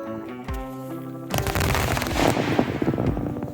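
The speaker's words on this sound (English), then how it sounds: "And there go the firecrackers." Firecrackers set off underground burst into a rapid, loud string of crackling pops after a lit fuse hisses briefly, the muffled bangs running on like machine-gun fire for a couple of seconds.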